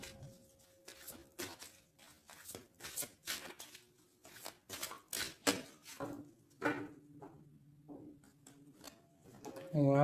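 Tarot cards being cut and handled, a run of crisp papery flicks and slaps at close range with a soft voice and some low hum in between.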